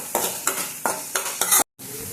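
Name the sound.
onion, chili, ginger-garlic paste frying in oil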